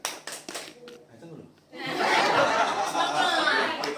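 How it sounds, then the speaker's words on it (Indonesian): A group of teachers in a training session does a spirit clap: a few quick claps open, a short lull with voices follows, then a burst of dense clapping mixed with chatter and laughter. "Tepuk semangat."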